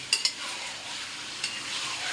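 Chicken pieces frying with lightly browned onions and ginger-garlic marinade in a karahi with no water added, giving a steady close sizzle broken by a few soft stirring scrapes.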